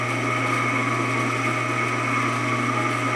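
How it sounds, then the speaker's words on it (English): A drill bores into wood at the nut of a guitar neck held in an aluminum fret-slotting jig, giving a loud, steady high-pitched whine that holds unbroken throughout with no talking. "I can drill right at the nut, first fret"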